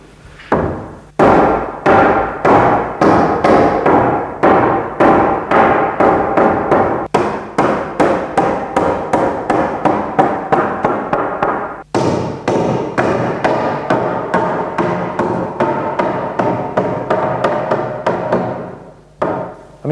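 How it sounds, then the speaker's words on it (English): A homemade wooden mallet knocks apart old furniture in a long series of loud, close, dull thuds, struck in a steady rhythm with short pauses between bursts. "I'm using a homemade wooden mallet for this job."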